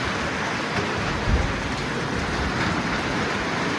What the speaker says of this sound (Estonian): Täiega sajab.